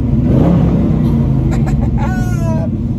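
A loud LS1 V8 engine in a 1970 split-bumper pro-touring car rumbles steadily and rises into a brief rev near the end, close up.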